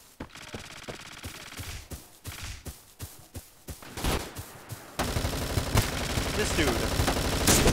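Rapid bursts of automatic gunfire from a browser shooting video game crackle close and loud, first as separate volleys and then as a dense continuous barrage, while a player exclaims over the shooting.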